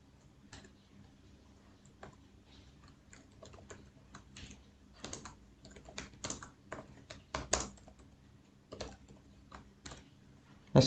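Keys on a computer keyboard tapped in short irregular bursts, close and fairly soft, with clustered clicks and brief pauses, ending in a sharper tap.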